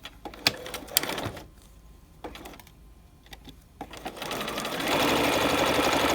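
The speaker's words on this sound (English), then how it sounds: "At the machine, we will sew this seam at 1/2 inch." A sewing machine stitches a half-inch seam with a standard 2.5 stitch, giving close clicks and short whirring bursts that become a steady, loud motor hum and needle chatter toward the end, with no talking.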